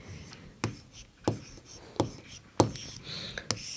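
A pen or chalk writing a month name on a surface in a classroom lesson, five short, distinct strokes spaced about every second, close and fairly quiet, with faint low breathy noise between them.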